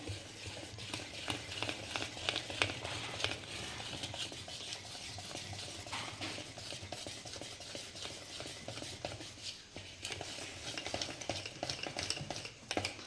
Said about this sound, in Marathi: आता हे बॅटर पुन्हा व्यवस्थित मिक्स करून घेऊया